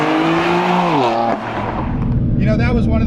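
A BMW M4 roars loudly under hard acceleration, its engine note rising and then dropping at a shift before building again, close and sustained throughout.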